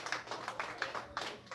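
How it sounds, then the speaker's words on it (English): Scattered applause from a small crowd at Shady's Hometown Tavern in Albany, a few people clapping in uneven bursts, fairly faint and a little distant. "Round of applause from the people starting to file in here"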